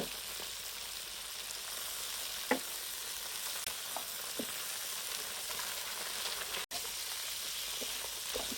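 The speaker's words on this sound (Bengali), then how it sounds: "ভেন্ডিগুলো ভালো করে একটু নেড়েছে ভেজে নিব" Okra (bhindi) fries in a pan of oil with dried red chilli, giving a steady, even sizzle broken by a few sharp scrapes and taps as it is stirred.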